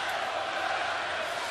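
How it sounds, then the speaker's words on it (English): A raucous sellout crowd roars at a Toronto Raptors playoff basketball game, a dense, steady wall of arena noise that holds loud and unbroken throughout. "A raucous sellout crowd once again on hand here"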